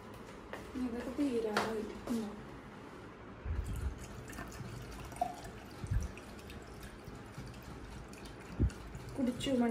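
Plants being watered indoors give soft splashes and drips in a few short bursts, close but faint, while people talk around them.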